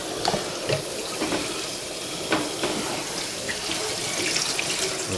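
Running tap water streams steadily over a dry air filter as it is flushed clean, a continuous close rush of water with small splashy surges and no talk.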